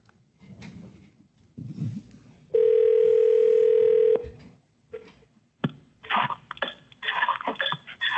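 A telephone dial tone sounds for about two seconds as a steady, loud tone, preceded by coughs and quiet voices and followed by clattering handling noises of the phone.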